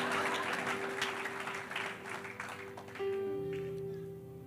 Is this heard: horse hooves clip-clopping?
no